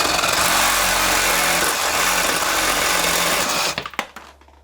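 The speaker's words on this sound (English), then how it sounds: "Maybe we can cut that with the recip saw too" A reciprocating saw cuts through corroded toilet bolts with a loud, rapid, buzzing rasp. It runs steadily for nearly four seconds, then sputters and stops in a few short bursts.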